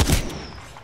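Gunfire in Apex Legends, a single loud shot burst that quickly decays with a fading ring.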